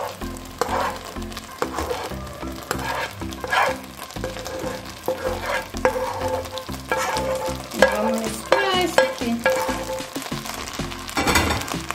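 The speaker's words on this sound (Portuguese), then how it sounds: "Vamos largar tudo aqui no nosso arroz." Rice and vegetables sizzle steadily in a hot frying pan while a utensil scrapes and stirs through them, with occasional clinks against the metal.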